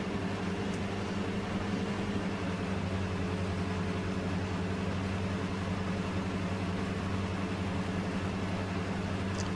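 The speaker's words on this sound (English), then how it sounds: "I do like the engine noise." A Robin DR401 light aircraft engine in the X-Plane 11 flight simulator drones steadily with a constant low hum and broadband noise, unchanging throughout, with no speech.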